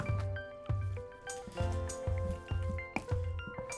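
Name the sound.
stirring chili with beans and corn in a pot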